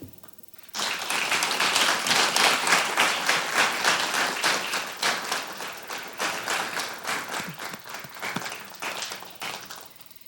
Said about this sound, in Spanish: Solicito un aplauso para el grupo de psicólogos por este logro de esta conquista editorial.